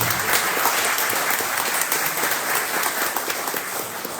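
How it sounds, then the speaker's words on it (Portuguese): An audience claps at a panel of a forum on popular tradition and knowledge, giving a steady, sustained round of applause that holds evenly with no talk on top. "Mais uma salva de palmas, né?"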